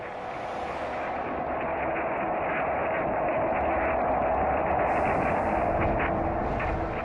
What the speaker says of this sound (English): Picked up by the orbiting SOHO satellite, this is the sound of the sun.